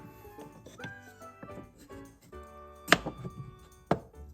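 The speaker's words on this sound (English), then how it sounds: "Let's chop the pear in half." A toy knife chops a toy pear in half in a play kitchen, giving two distinct, sharp clacks about a second apart over quiet background tones.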